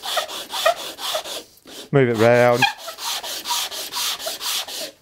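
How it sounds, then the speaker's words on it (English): A wooden bowl is rubbed back and forth on a sanding board, making a steady series of rhythmic scraping strokes, close and loud, broken by a short spoken phrase partway through. "I want to make sure that's dead flat that side, so we can use that sanding board"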